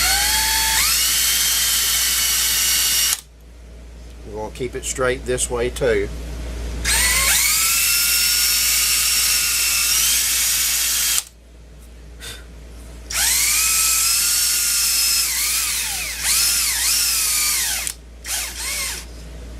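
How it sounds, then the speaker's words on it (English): A 5/16 inch drill bit bores into a tobacco pipe blank, its high whining motor running in long steady bursts with rising and falling pitch, broken by a pause where someone talks. "this is a 5/16 inch drill bit, and I'm just eyeballing down this line that I marked for my center"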